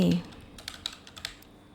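A formula is typed on a computer keyboard, a short run of light, quick key clicks after a voice trails off.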